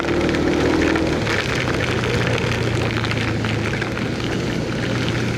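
Heavy rain pouring steadily during a typhoon, a dense continuous hiss with a low hum running beneath it and no talking.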